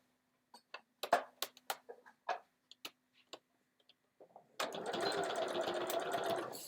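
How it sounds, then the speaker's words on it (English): A domestic sewing machine stitches in the ditch around yellow binding on an ironing board cover, a few isolated clicks and taps giving way to a steady, close, continuous mechanical whir that runs alone to the end. "we're going to stitch in the ditch all the way round"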